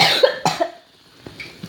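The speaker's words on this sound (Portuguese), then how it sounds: "Ai, maldita tosse." A person coughs several times in quick, harsh bursts, close to the microphone, then trails off into quieter throat sounds and faint breathing.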